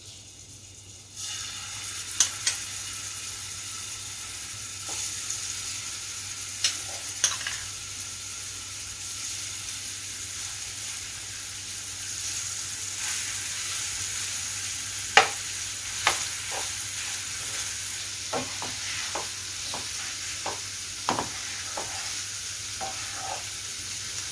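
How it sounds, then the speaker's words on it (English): Chopped garlic fries in hot oil in a pan for Iranian Mirza Ghasemi, giving a steady close sizzle with occasional sharper crackles and spatula scrapes throughout, no talk. "Now I add some chopped garlic."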